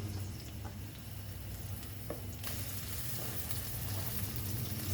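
Onion frying in a pan for a Goan sardine stew, a steady close hiss of sizzling oil with a few faint scrapes and a slight rise in intensity partway through.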